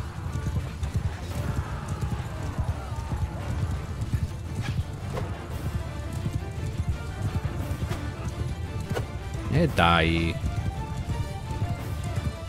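Horses galloping across a Mount & Blade Bannerlord battlefield, steady clip-clop of hooves under distant combat noise, with a clear horse whinny rising near the end; someone speaks briefly.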